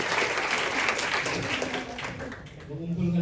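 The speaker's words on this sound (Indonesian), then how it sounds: "Tepuk tangan dulu buat Andi." A studio audience in Indonesia applauds for a young man named Andi, a burst of clapping that dips briefly and swells again, with voices mixed in beneath it.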